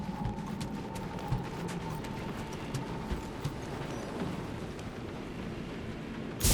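Steady rain falls in the video game Marvel's Guardians of the Galaxy, a soft, continuous patter with faint distant rumbles and occasional small knocks, no voices.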